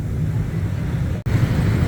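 Steady city traffic rumbling through a busy Bangkok intersection near Soi Cowboy; a continuous low engine wash of cars and motorbikes, with a brief dip in the noise partway through.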